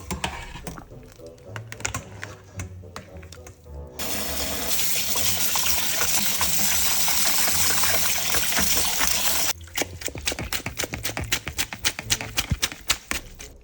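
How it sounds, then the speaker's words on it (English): Boiled noodles for spicy beef jjamppong rinsed under a cold running tap: a steady, loud gush of water fills several seconds in the middle, framed by sharper clattering and tapping before and after. "We're gonna wash the noodle with the cold water."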